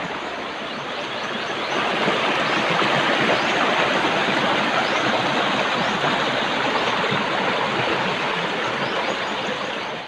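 A creek in a rural barrio near Davao City flows in a steady, full rushing wash with no break and nobody talking over it.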